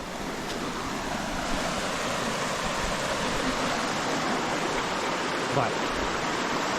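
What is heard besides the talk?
creek water flowing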